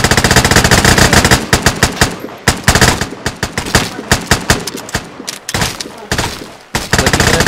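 Automatic gunfire in the online shooter game Vigor during a tournament match, loud continuous bursts of rapid shots with only short breaks, dense and close throughout.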